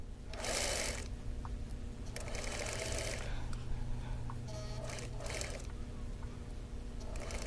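A sewing machine stitches pieces of a Wheel of Mystery quilt block in short bursts that start and stop, with steady motor hum and light handling noise between runs.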